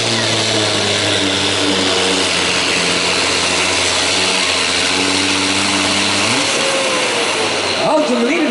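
A heavily loaded DAF truck at a truck pulling final in Montfoort, its engine holding a loud, steady drone in a high gear that shifts pitch near the end, with commentary over it.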